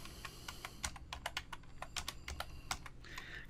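Computer keyboard keys clatter as CSS code is typed, a close run of quick, irregular clicks with a brief pause before the last few strokes.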